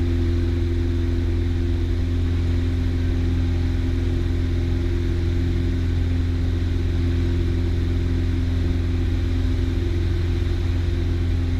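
A small aircraft climbs after takeoff in the traffic pattern, its engine a loud, steady, unbroken drone heard alone from inside the plane.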